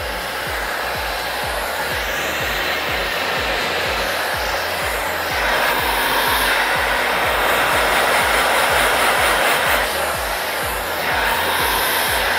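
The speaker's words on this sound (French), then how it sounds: "je vais réaliser un brushing souple avec une brosse" Steady, loud hair dryer roar runs throughout a soft blow-dry with a brush, its airflow whooshing with slight swells as the dryer moves, with no talking.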